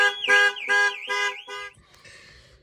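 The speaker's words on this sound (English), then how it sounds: "if the alarm goes off, you're going to have to quickly start the car and then eventually it will turn off" A Jaguar car alarm blares in loud, repeated wailing pulses of a few beats each, then cuts off abruptly and leaves faint background rustle.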